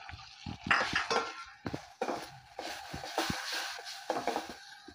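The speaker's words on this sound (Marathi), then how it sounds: "आता मी हा बारीक चिरलेला टोमॅटो कांद्यामध्ये घालणार आहे।" Finely chopped tomato goes into onions in a pan, making close scraping, clinking and stirring of a utensil against the metal in short repeated strokes with a light sizzle underneath.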